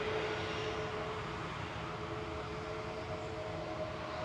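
An easyJet Boeing 737 Max 8 bound for Palma rumbles at Manchester Airport, a steady distant engine roar with a faint tonal whine, fairly quiet and unchanging, with no speech.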